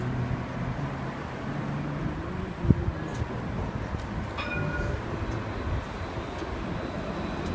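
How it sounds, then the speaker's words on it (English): A tram pulls in on the far track at an old-town stop in Nice, giving a steady rumble with a sharp clank partway through and a brief high squeal, under the hum of the street. "Tram pulling in on the other track."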